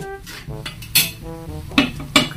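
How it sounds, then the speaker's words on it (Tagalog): A spoon stirs vegetables with carrots in a metal pot, giving several distinct clinks and scrapes at irregular intervals, close and fairly loud. "Halo natin, halo."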